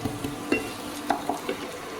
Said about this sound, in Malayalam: ഉപ്പ് ചേർത്തിട്ട് നമുക്ക് നല്ല ഒന്ന് ഇളക്കി കൊടുക്കാം.